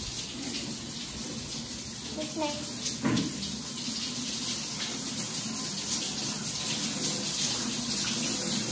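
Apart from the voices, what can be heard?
shower running water in a bathroom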